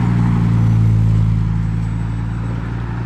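Pagani supercar engine approaching, a loud, steady, deep drone with a strong low hum, easing slightly as it continues.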